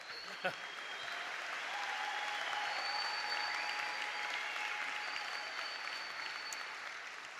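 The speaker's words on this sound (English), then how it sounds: "Thank you for the applause of sympathy" A Cardiff University graduation audience applauds in a hall, a broad, sustained rush of many hands clapping at a distance, steady in loudness throughout, with faint voices mixed in.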